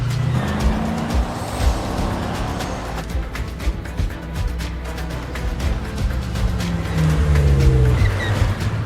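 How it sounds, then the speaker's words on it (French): Cars race side by side on a long straight road, engines roaring loudly with rising and falling pitch as one tries to overtake, tires squealing now and then, no talking. "Sur une longue ligne droite, Emile tente de doubler Dadju."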